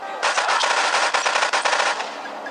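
A fast, sustained burst of automatic gunfire rattles out as one continuous string of loud, close shots lasting a couple of seconds, with no voices over it.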